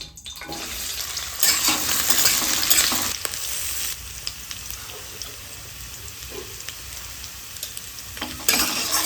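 Potatoes frying in hot oil with whole cumin seeds for a fig (dumur) curry give a steady broadband sizzle, with louder bursts of stirring and spoon scrapes partway through and near the end.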